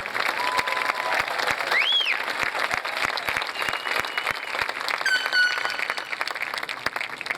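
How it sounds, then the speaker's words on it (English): A crowd at a 2019 middle school promotion ceremony gives a round of applause for the graduating students, a continuous wash of clapping with scattered louder claps and faint whistles or cheers throughout. "Let's get a round of applause"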